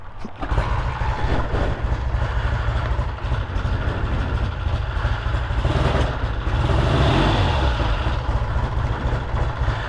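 A 1968 Triumph TR6C motorcycle, kickstart only, on a cold day, turning over and running with a steady, close, loud engine rumble and throb throughout, no voices.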